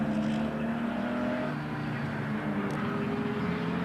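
Sports cars from the 1960s race past on a circuit in a distant, fairly faint engine drone that swells and fades steadily across a few seconds with no talking.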